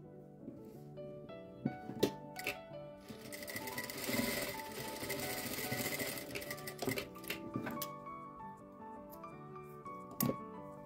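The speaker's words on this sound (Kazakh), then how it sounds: "Резинкамыз басына жеткен кезде осы жерден тағы да тігіс түсіреміз." A sewing machine stitches elastic onto a fabric turban in short bursts, then a longer steady run of rapid mechanical clatter, with clicks and pauses between, close and alone.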